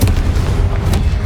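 Confringo explosive spell in the Hogwarts Legacy video game, loud booming blasts over a constant deep rumble, with a couple of sharper bursts standing out in a second-long stretch.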